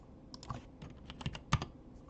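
A computer keyboard key, Page Down, is tapped repeatedly, about eight quiet, close, crisp clicks in an uneven rhythm with soft gaps between them, no voices.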